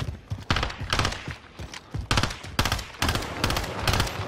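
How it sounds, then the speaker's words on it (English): Rapid automatic gunfire in Call of Duty Warzone on the Rebirth map, loud close bursts of shots in quick succession with brief pauses between volleys. "I'm shooting them in the back"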